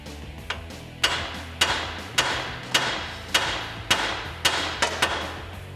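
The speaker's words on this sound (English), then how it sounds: "we're gonna tap right here on the spindle, and that's gonna pop that out" Hammer tapping on the steering spindle of a 2014-2018 Silverado 1500 or Sierra truck to pop it free, about eleven sharp metallic blows at a steady rhythm with ringing decay, close and alone.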